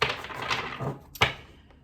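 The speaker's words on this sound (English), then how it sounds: "Right now I'm shuffling for you." Tarot cards are shuffled by hand, a soft riffling rustle followed by a sharp tap as the deck is squared, close and clear.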